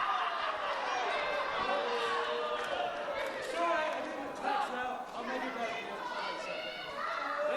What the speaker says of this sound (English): We have an incredibly raucous crowd here tonight